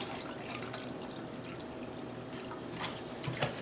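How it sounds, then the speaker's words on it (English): Half a cup of white vinegar poured into a mixing bowl for a tomato and onion salad, a quiet close trickle with light drips and splashes running through the short stretch. "Here comes the 1/2 cup of white vinegar."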